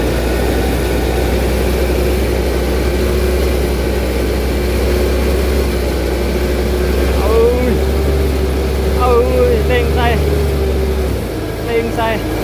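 A Thai-made jumbo rice harvester working in a paddy field, a loud, steady heavy engine drone that revs and holds before dropping near the end, with voices talking over it.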